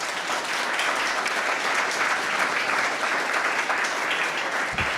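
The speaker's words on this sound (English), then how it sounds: "Will you give this panel a round of applause" An audience gives a panel a sustained round of applause, dense steady clapping from a room full of people that keeps going throughout without fading.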